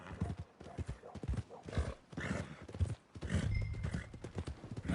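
A horse in Red Dead Redemption 2 walks with steady clip-clop hooves and gives snorts and whinnies, close and clear, while someone talks over it.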